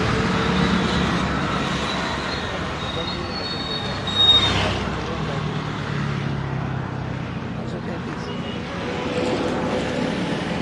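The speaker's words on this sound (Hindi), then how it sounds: "रेल की आवाजें जरूर आ रही है लेकिन रेल दिखाई नहीं दे रही है" A train passes on a nearby railway line in dense fog in Siliguri, a continuous low rumble with faint wheel squeal heard from a distance under broad outdoor noise, with no speech.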